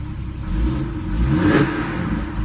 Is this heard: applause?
no